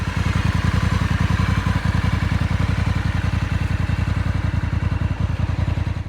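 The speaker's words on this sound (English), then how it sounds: "Honda have pretty much perfected the standard exhaust sound on this bike" A 2025 Honda CRF1100L Africa Twin with DCT and electronic suspension, stock exhaust, idling close by with a steady low, even pulsing throb that holds loud and unchanged throughout, with no talk.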